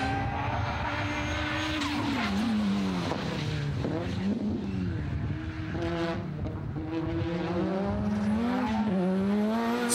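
Tuned Cyber Evo race car lapping a circuit, engine revving loud and close throughout with pitch rising and falling through gear changes and corners, plus brief tyre squeal.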